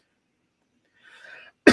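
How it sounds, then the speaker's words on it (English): A single loud cough bursts out close to the microphone at the end, after a soft muffled rustle; it happens during an online review of a drag competition show. "You're coughing."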